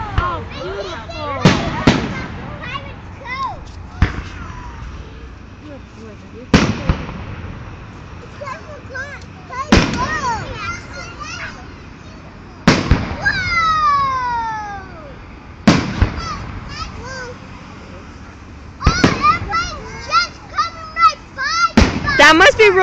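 Big fireworks bursting over Denver, Colorado, in August, with loud booms spaced a few seconds apart, each followed by crackling, while excited voices and children talk and shout throughout.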